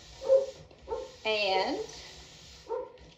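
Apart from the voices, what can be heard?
dogs barking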